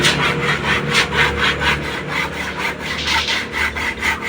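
Handsaw cutting through wood during house building, a steady back-and-forth rasping with regular strokes, close and loud with no talk over it.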